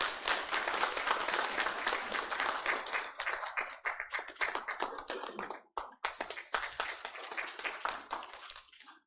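A church congregation breaks into warm applause during a Sunday service appointment, many hands clapping together loudly and continuously, thinning briefly before picking up again.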